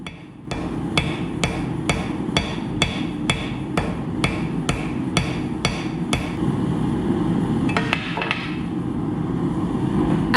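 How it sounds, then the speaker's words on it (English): A small hammer strikes hot steel during forge welding, about a dozen sharp, evenly spaced metallic blows close by over a steady background roar, followed by a brief flurry of lighter taps. "Here I'm hitting it with the smallest hammer I have"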